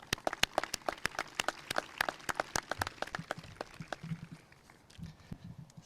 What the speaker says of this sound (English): I'd like to give family, friends, and teachers a round of applause.